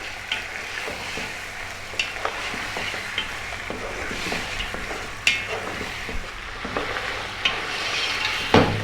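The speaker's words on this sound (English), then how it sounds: "on this above medium heat, we're going to go for like 6 or 7 minutes, just giving this meat a nice head start" Bone-in lamb pieces frying in a pan over medium heat, a steady soft sizzle with occasional clicks and scrapes of stirring, close and continuous with no talk.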